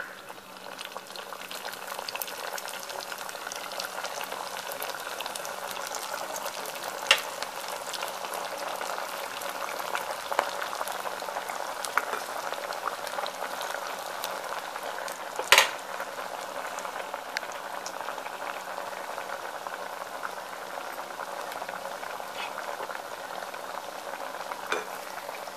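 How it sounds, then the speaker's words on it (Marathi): Sabudana vadas deep fry in hot oil, a constant bubbling, crackling hiss that runs on steadily, broken by a single sharp clink partway through. "अशा प्रकारे आपण बाकीचे पण वडे फ्राय करून घेऊया"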